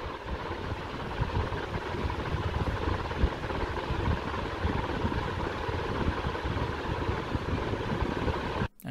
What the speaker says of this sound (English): at full speed, you do hear the flutter from those blades